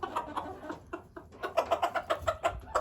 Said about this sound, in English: That is a cool looking bird.